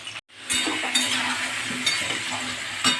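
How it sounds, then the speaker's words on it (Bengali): Vegetables including brinjal, pointed gourd and Malabar spinach stems frying in oil, a steady close hiss of sizzling with occasional stirring scrapes and light clinks throughout. "সবজিগুলো ভালো করে তেলের মধ্যে ভেজে নেব"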